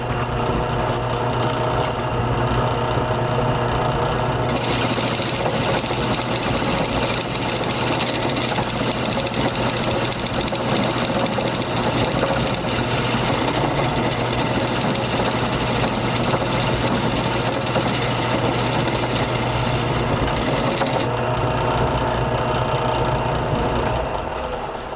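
A metalworking shaper machine runs continuously, loud and close, with a steady mechanical drone and busy clattering that holds without a break for the full length.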